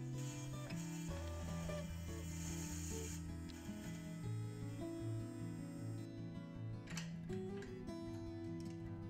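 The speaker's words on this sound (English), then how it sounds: "I can drill out very specific parts of the river mussel shell" A dental drill works into a river mussel shell under a microscope, giving a continuous rasping, whirring grind with shifting pitch and small ticking catches, fairly close and alone with no voices.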